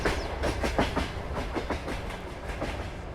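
A long freight train of many cars rolls past in Farming Simulator 22, a steady rumbling clatter with repeated rhythmic clacks of wheels over rail joints, loud and close throughout with no talk.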